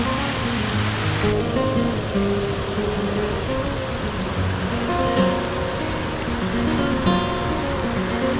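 A broad river in the municipal park at Mucugê, Chapada Diamantina, Bahia, produces a continuous rushing wash of flowing water, steady and moderately loud throughout with no pauses.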